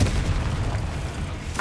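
A Confringo blasting spell from the Hogwarts Legacy game goes off as a loud, close explosion. Dense, booming low rumble fills the whole moment with no quiet gaps.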